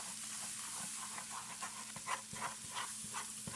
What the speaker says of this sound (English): And then we're gonna saute it and cook that flour taste out.